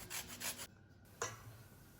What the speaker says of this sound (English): I'm going to grate in the rind from both the lemons